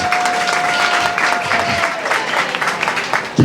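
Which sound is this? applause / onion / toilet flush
applause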